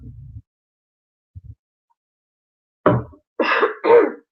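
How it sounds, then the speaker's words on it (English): A faint low rumble, then three loud, raspy throat-clearing bursts close to the mic, the last one voiced and drawn out. "clear my throat"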